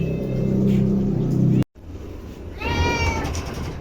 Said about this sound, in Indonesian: Ya, ada kucing juga.